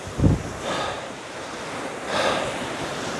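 Baltic Sea waves on the Hel coast surge and wash ashore in two or three broad swells, mixed with gusty wind buffeting the microphone.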